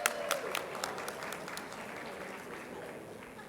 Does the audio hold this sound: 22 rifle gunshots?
no